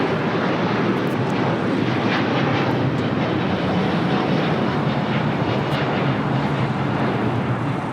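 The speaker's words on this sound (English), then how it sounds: "102 taking off to Seoul on the 787-9 Dreamliner" Air Premia Boeing 787-9 Dreamliner taking off from LAX bound for Seoul: a loud, continuous, broadband jet roar that stays steady throughout, with no voices over it.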